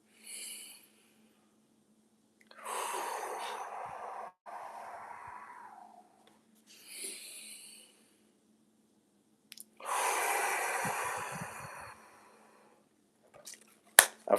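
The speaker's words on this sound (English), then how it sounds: "Deep breath in." A man draws slow, deep breaths close up: several long, airy inhales and exhales separated by silent pauses, with a sharp click at the very end.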